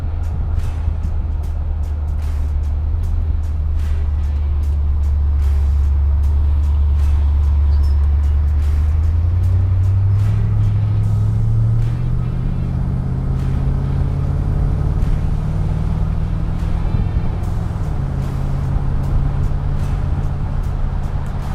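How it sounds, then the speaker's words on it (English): A 1973 Corvette's engine drones steadily from inside the cabin, its pitch rising smoothly then stepping down as the Turbo Hydra-Matic 400 automatic transmission shifts gears. "That's actually the way a turbo hydromatic 400 is supposed to shift."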